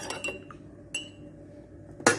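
A spoon clinks against a cup while black coffee with sugar is stirred, giving a few sharp, bright taps spaced across a couple of seconds, the last one loudest, in an otherwise quiet room.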